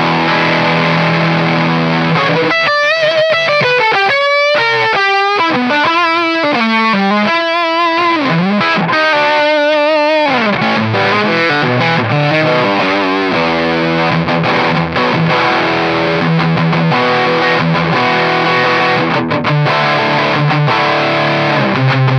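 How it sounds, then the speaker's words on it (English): An electric guitar played through a DC Pedals Dirty Boost pedal turned all the way up, giving a heavy, saturated distortion: a run of single sustained notes and bends, then thick, dense chugging chords, loud and unbroken. "So you can hear how it can turn like just an overdrive pedal into a super heavy distortion."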